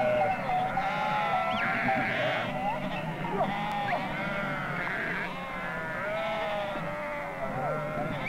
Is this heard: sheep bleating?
yes